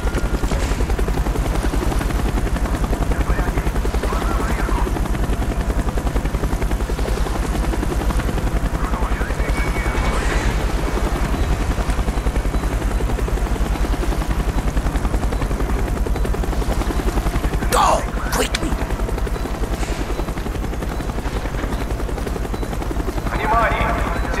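A military helicopter in Call of Duty: Black Ops thrums steadily and loudly across the whole stretch, its rotor drone constant beneath voices talking, with a couple of sharp bangs near the end.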